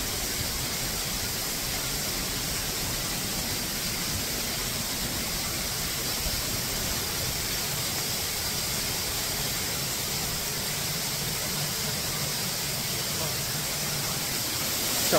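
Spray from a waterfall in the North Falls area of Oregon drenches a rocky trail like a shower, heard as a steady, dense, unbroken hiss with no talk.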